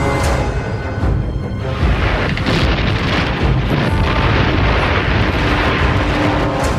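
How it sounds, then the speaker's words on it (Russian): Wartime explosions and artillery fire during the Yelets offensive, a dense, continuous rumble of booms and blasts filling the whole stretch with no voices. "Город буквально сотрясался от взрывов."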